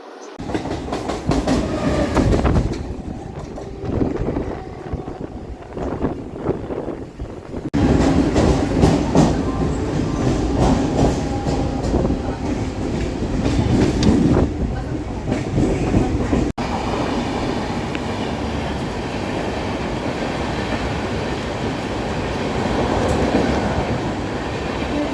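A Mumbai local train rolls toward Bandra with a loud, continuous rumble and rhythmic clickety-clack of the wheels, heard from inside the carriage, swelling and easing over time.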